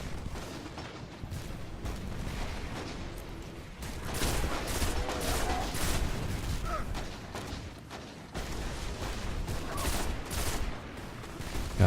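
Explosions and bursts of gunfire in the video game Destiny: The Taken King, a dense, continuous barrage of blasts and shots that swells louder in the middle and again near the end.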